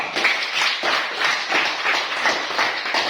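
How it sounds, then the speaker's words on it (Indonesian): Classroom applause for a student group, a steady patter of many hands clapping together in a room, continuous for a few seconds with slight swells. "Silakan berikan aplaus kepada kelompok 2."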